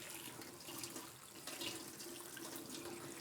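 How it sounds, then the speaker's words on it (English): Running tap water pours through a strainer to rinse sprouted quinoa seeds in a kitchen sink, a steady close splashing hiss with no talk. "So it's very easy to rinse the seeds this way."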